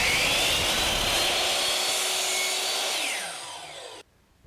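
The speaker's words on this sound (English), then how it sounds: "take the piece of trim, each piece of trim, and set it up against the rip fence of the saw, just like we would up against the wall, and then cut it." A miter saw cuts crown molding trim with a loud, close, steady motor whine that winds down and cuts off near the end, leaving near silence.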